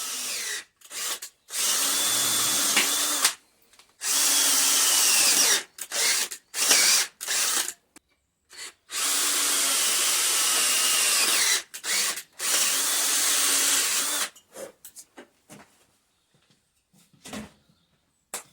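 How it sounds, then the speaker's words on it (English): A power drill bores holes for a hydraulic forging press build in repeated close whining bursts, some long and steady, others short stop-start pulses, separated by quiet gaps. "Okay, so holes are drilled."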